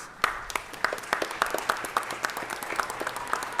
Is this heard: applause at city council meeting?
yes